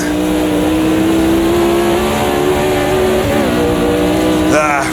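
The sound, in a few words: Formula Vintage race car engine in AMS2 video game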